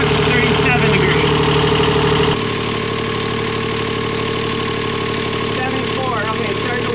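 A boat engine runs steadily while warming up, a loud, even mechanical drone with knocking vibration that drops slightly in level partway through and continues, with a person speaking over it.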